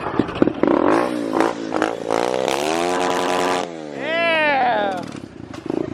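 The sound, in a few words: motorbike engine starting and revving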